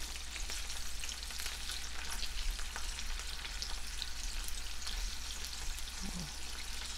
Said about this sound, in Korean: 새우를 새우 양면이 고루 있도록 자주 뒤집어준다